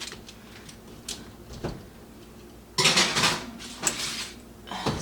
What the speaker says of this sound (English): Gonna put my broccoli in the oven.